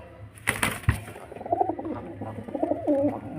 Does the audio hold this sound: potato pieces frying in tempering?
no